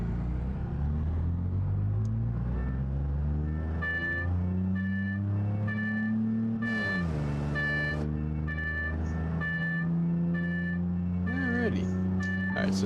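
A 1966 Gavril Bluebuck 232 in a driving video game, its engine drone rising through the gears in steady harmonic sweeps with a shift dip midway, loud and continuous, with faint chimes and a voice talking at times.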